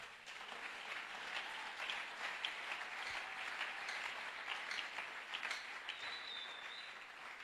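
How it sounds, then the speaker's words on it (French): Applause from an audience at a French-language church service, a steady, fairly faint wash of clapping sustained for several seconds with no talking. "On peut acclamer, pourquoi pas."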